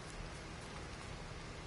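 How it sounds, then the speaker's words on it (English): Steady rain falling in the Lego Fortnite video game, a continuous broadband hiss with a low rumble underneath, soft and even throughout with no voices. "I need to wait out the rain."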